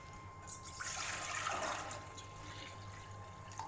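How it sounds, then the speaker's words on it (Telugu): Water is poured into a pot on a kitchen stove, a soft rushing swell lasting about a second before fading into a quiet background hum. "గిన్నె పెట్టుకొని వాటర్ పోసుకుందాం"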